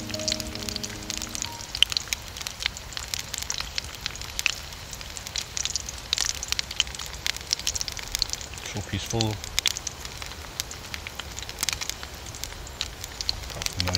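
Steady crackling sizzle of breakfast frying on a Trangia camping stove in Scottish woodland runs throughout, with a brief quiet remark spoken over it and faint outdoor ambience with birdsong.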